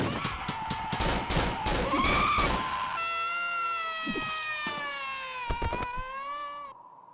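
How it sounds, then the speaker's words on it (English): In the horror game Cry of Fear, rapid sharp metallic clanks of metal spikes hit a hard floor in a dense burst, then a wailing, eerie tone takes over with a few scattered clanks beneath it. "creating a constant sound of metal hitting the floor"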